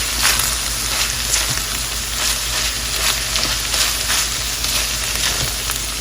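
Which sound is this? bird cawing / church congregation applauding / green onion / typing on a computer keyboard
green onion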